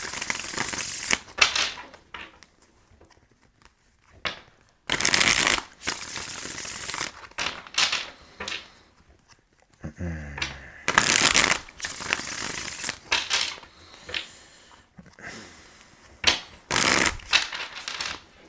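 Tarot cards shuffled by hand in repeated sharp riffling bursts, close and loud, separated by short pauses with light handling noises between.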